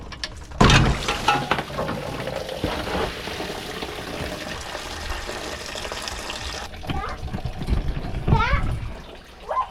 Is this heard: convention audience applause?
no